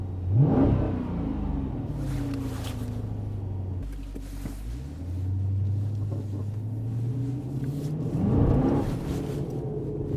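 A Dodge Challenger engine, now running smoothly after a faulty rebuild, revs up and falls back repeatedly, its pitch climbing and dropping in a few long swells, loud and close with a rumbling undertone.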